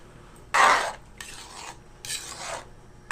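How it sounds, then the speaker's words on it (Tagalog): A spoon scrapes and stirs spaghetti sauce in a pan in three distinct rasping strokes, close and fairly loud, with quiet gaps between them and no talk. "haluin nyo ng haluin hanggang sa mahulog ang loob ninyo"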